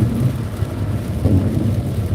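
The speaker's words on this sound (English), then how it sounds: "but yep, we're dealing with rain." Steady rain noise, a constant dense wash with low rumbling underneath, heard from inside a car on the road to South Carolina.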